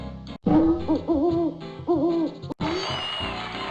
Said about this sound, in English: It's the hoot hoot hoot of the great horned owl.